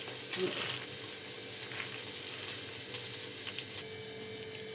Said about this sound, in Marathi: आणि बघा मी तेल टाकले, तेलमध्ये थोडीशी मोहरी टाकून घेतलेली आहे आपले उसळ बनवण्यासाठी